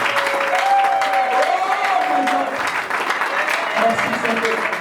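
A church congregation claps steadily through worship, dense continuous applause with voices singing and calling over it.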